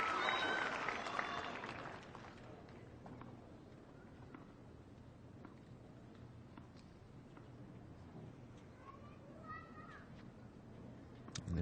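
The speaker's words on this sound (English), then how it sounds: "A little bit of noise in the crowd there, so Konta just taking a few extra moments to" Steady broadband murmur from a tennis crowd at the 2019 Rabat final, a dense wash of voices and movement that is louder at first, then settles to a constant hum with occasional brief calls.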